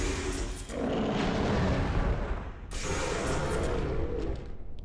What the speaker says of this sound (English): Solid cannon. Not a bad weapon against these dudes.